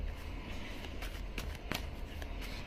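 Tarot cards being shuffled by hand as one deck is riffled and cut, giving a steady papery rustle punctuated by a few sharper card snaps, close and fairly quiet, with no talking.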